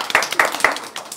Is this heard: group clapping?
yes